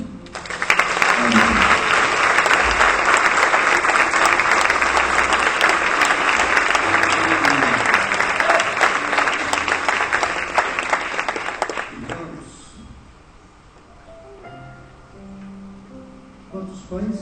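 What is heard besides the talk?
congregation applauding in church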